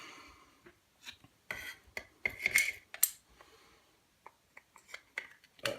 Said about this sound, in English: And then put those screws back on.